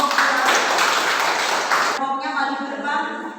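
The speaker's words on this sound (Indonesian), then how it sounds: "Tepuk tangan untuk kelompok." Classroom applause for a student group: dense, broadband clapping from many hands for about two seconds, then it stops abruptly and leaves a quieter tail of room noise.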